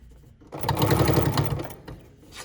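Sewing machine stitching a fabric Halloween trick-or-treat bag, a steady close mechanical whir that starts abruptly, runs about a second and then slows and stops, no talking.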